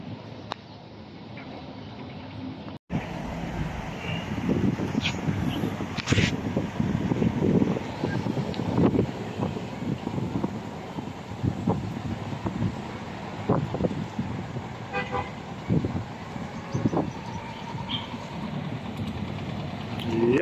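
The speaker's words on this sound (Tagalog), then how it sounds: "napakasarap ng hangin, preskong presko" Gusty wind buffets the microphone in uneven bursts, rumbling loudly and continuously, with a low engine-like drone underneath.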